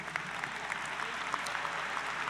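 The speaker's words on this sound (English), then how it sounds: "giving them a short round of applause to say thank you" Graduates and guests at a college commencement ceremony give faculty and staff a short, steady round of applause, a dense crowd of clapping hands heard for a couple of seconds.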